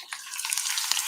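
Onions sizzle and crackle in a little oil in a pan, a steady close frying hiss with small pops.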